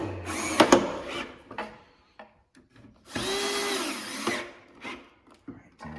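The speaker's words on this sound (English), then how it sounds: "he is drilling from the seat into the backrest." A power drill whirs in short bursts, one long run in the middle, drilling four holes through a wooden seat into the backrest, with knocks and handling noises between, close by.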